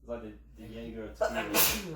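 A single sharp sneeze from a person at a casual gathering where tequila shots are being poured, bursting out near the end right after a man's brief speech.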